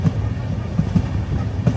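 An InterCity Express rolls along, heard from inside a sleeper-class coach: a steady low rumble with soft periodic clunks from the wheels and carriage.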